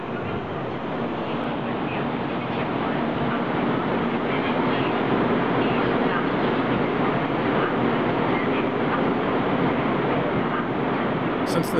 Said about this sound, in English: Since the train I was boarding was coming from Taipei, it made only a brief stop in the station.